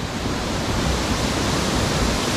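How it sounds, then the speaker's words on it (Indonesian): Waterfall at Rumah Kei on the road between Ambon and Masohi, a steady loud broadband rush of falling water filling the whole clip with no pauses and no voices. "Datang ke sini teman-teman, di air terjun Rumah Kei"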